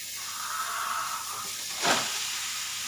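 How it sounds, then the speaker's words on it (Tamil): A steady sizzling hiss of onions sautéing in a pan, with a brief louder burst of sizzle near the end. "இங்கே பாருங்கள் வெங்காயம் நல்லா வதங்கிருச்சு"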